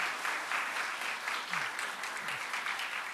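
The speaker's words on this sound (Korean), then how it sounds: "박수 한번" A church congregation claps together in sustained, moderately loud applause for a few seconds, with faint murmurs underneath.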